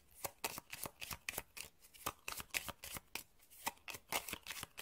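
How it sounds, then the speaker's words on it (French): A deck of oracle cards being shuffled by hand nearby, a rapid run of crisp riffling flicks in uneven bursts, soft and close with no talking. "j'ai tiré 6 cartes complémentaires que je vais mélanger au oui et au non."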